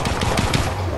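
Rapid bursts of gunfire from a shooter video game, a quick series of sharp reports close up and fairly loud, with no talking over them.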